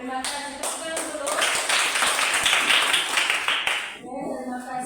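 A classroom of children clapping their hands together, a dense sustained burst of clapping lasting a few seconds before tapering off, with voices mixed in.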